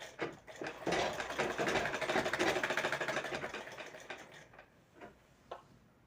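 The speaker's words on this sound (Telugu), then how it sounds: "లైనింగ్కి ఈ విధంగా డబల్ కుట్టు అనేది వేసుకుంటే మనకి కొంచెం ఊడకుండా ఉంటుంది" Sewing machine running a double row of stitches along a blouse lining, a fast rattling run that slows into a few separate stitches at the end, fairly quiet with no talk.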